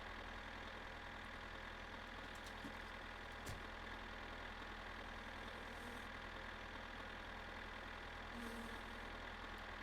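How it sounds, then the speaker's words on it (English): Tractor engine idling in My Summer Car, a steady low drone with a constant rumble and faint ticking, holding level and unbroken throughout. "The music is the sound of the tractor."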